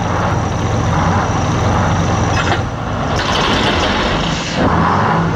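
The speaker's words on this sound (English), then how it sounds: "This is the sound of the most dreaded vehicle on the road today, the tow truck" A heavy tow truck engine rumbles loudly and continuously at a roaring broadband drone, with a brief hiss partway through and no talking.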